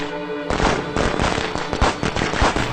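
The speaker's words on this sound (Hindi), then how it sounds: "पटाखे कौन दगा रहा है?" Firecrackers burst outside in a dense, loud string of rapid cracks and pops that runs on without a break.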